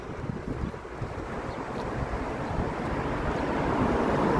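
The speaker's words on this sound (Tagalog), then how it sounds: "Sarap ng hangin." Steady breeze blowing across an outdoor microphone, a continuous broadband rush that builds slightly louder toward the end, with no voices.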